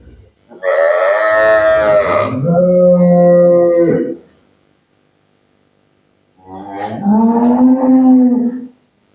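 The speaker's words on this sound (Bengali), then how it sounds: "একবারে বিগ সাইজের গাভী" A big dairy cow lets out two long, loud moos close by, the first deep and drawn out with a falling tail, then a pause before a second full bellow.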